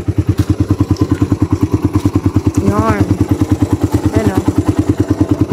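An automatic scooter-type motorcycle engine runs at night with a fast, even, thumping putter close by, while people talk briefly over it.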